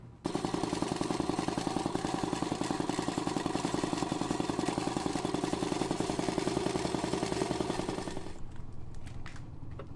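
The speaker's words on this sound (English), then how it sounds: "It is an old, oiled compressor, but it does work." An old oiled air compressor runs in a garage with a loud, rapid pounding piston rhythm that holds steady for about eight seconds, then cuts out and leaves fainter noise.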